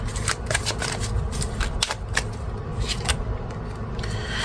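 A deck of tarot cards is shuffled in a loud, close riffle, with continuous papery flutters and snaps rising and falling in quick bursts and no talking.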